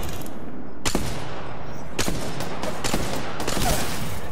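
Gunfire from a shooter video game, several loud, sharp shots spaced apart with iron sights in use, over a constant dense background of game noise.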